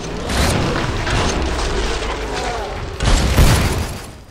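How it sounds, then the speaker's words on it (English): Heavy grenade blasts in the shooter game Killing Floor 2 roar loud and sustained, with a fresh booming burst near the end over dense gunfire and clatter. "Throwing grenades like it's nobody's business."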